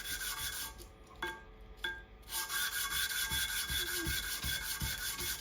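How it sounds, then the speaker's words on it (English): Small engine bearings having their sides sanded by hand for a hit-and-miss engine, a steady close rubbing rasp with a few brief pauses and some low knocks. "I'm going to just take a little tiny bit of sanding off of the sides of these."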